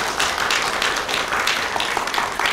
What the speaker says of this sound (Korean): 우리 박수로 감사의 표현 한번 드리겠습니다.